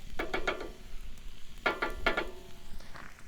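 Jambalaya with tomatoes and onions cooking in a cast iron pan at a camp cookout, a faint sizzle broken by short bursts of stirring and scraping in two clustered groups.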